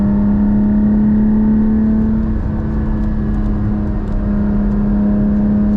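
A Porsche GT4 engine with manual transmission drones loudly and steadily from close by, a deep exhaust hum with throaty rumble holding constant throughout.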